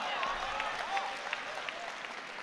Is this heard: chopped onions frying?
no